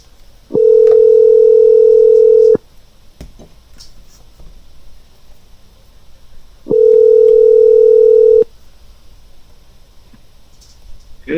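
A telephone ringback tone on an outgoing call, heard as two long steady tonal bursts of about two seconds each, separated by a quiet gap, loud over a faint background.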